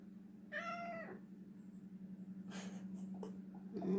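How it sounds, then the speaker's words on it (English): A wounded cat gives an angry, drawn-out meow near the microphone, followed by softer growling and breathy sounds in a quiet room. "He's one angry cat."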